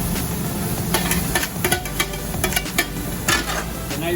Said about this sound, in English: Give this a good saute.